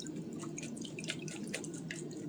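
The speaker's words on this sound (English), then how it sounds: "this is my little draining pan. So drain as much as you can get off of there" Liquid dripping and trickling as stirred apples for tapioca apples drain in a small draining pan, a steady patter of fine drips throughout, fairly close and moderately quiet.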